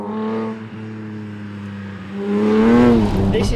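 Aston Martin DB5 James Bond stunt car lapping Silverstone circuit, a loud steady engine drone inside the cabin that swells into a rising rev toward the end, with talking over it.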